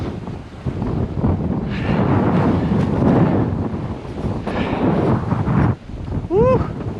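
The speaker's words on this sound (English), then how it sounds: "Woo! Wind's picking up." Gusting wind before a storm buffets the microphone in rising, roaring surges, loud and close throughout, with a brief dip near the end.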